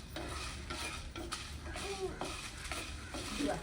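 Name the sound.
dry roasting chilli, coriander, pepper and cumin in pan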